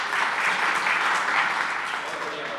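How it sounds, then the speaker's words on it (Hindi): An audience at a Diwali poetry gathering in Kanpur claps steadily and loudly, sustained applause holding at an even level throughout without fading. "एक बार बहन निकिता तोमर के लिए तालियां उठाइए।"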